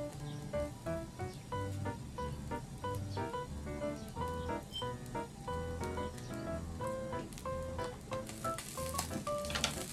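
Eel, grilled white before glazing with sauce, sizzles steadily on a robatayaki charcoal grill, with a continuous close crackle and hiss running through the whole stretch beneath a layer of tonal background sound.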